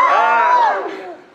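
Audience members in a rehearsal for the King David musical scream together in a brief, loud burst of massed voices that fades over about a second.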